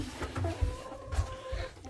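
Hens cluck softly nearby in short, irregular bursts, with a few low, muffled knocks in between.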